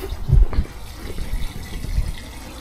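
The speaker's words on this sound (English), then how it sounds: "That's my water tank, I'm just emptying that." Water drains out of an emptied water tank outdoors, a low steady gushing and splashing flow with small surges, moderately close and continuous.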